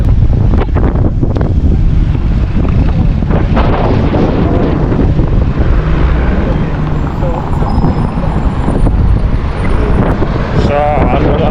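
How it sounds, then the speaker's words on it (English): Gusty wind buffets the microphone on a cloudy day in Montevideo, Uruguay, a steady loud roar running the whole time with occasional voices under it. "So today is windy and cloudy."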